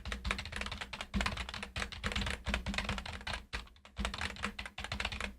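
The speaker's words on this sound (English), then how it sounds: "the current one that I'm working on is a membrane keyboard." Fast, steady typing on a membrane computer keyboard produces dense, continuous key clatter up close, with only brief pauses between bursts.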